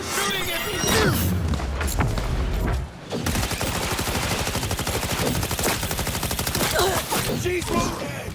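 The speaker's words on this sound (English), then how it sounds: "They're shooting at me!" Rapid gunfire bursts from a firefight in the video game Cyberpunk 2077: Phantom Liberty, loud and dense with a brief break near three seconds, then sustained automatic fire that continues under speech.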